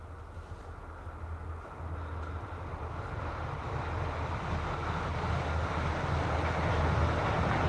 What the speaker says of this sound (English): That's the train coming.